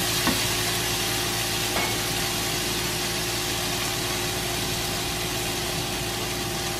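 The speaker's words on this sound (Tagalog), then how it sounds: "Pa-fry po natin yung bagoong." Bagoong sizzles steadily in olive oil in a pan, a continuous close frying hiss with no talk over it.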